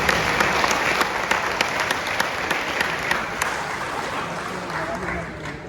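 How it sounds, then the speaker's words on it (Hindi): Applause from an audience in a Delhi University college auditorium welcoming the chief guest, a steady wash of many hands with a few sharper claps standing out, fading slightly toward the end. "कृपया जोरदार तालियों से उनका हार्दिक"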